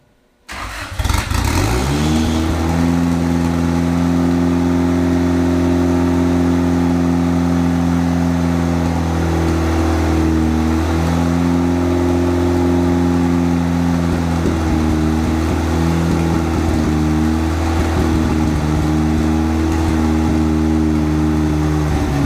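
A Honda Integra engine cranks and catches, then runs loud and steady with repeated revs rising and falling, close by and alone for about twenty seconds.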